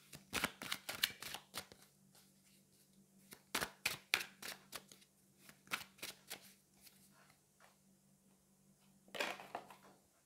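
Tarot cards are handled and drawn from a deck, making quick papery riffles and snaps in short bursts with quiet gaps between them, close and fairly soft, with no voices.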